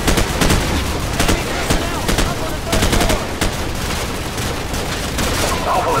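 Rifles and machine guns in Call of Duty 4: Modern Warfare rattle in dense, loud, overlapping bursts of battlefield gunfire, with voices faintly mixed into the din.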